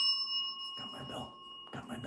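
A bell gives a bright metallic ring with a sustained ringing tone that lingers and slowly fades while someone talks over it.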